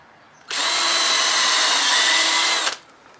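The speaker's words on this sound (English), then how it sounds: "Drill hole, pilot hole." A power drill whirs loudly at steady high speed for about two seconds drilling a pilot hole for an electrical box, starting and stopping abruptly against a quiet room.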